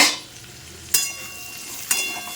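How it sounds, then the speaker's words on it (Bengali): Potatoes and pointed gourd frying in a pan, a soft continuous sizzle close by, punctuated by two sharp clinks of a utensil against the pan, with no one speaking. "আলু আর পটল ভাজছি"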